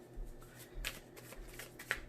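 Tarot cards are shuffled by hand, a series of soft riffling flicks and slaps close by, with quiet irregular bursts over about two seconds.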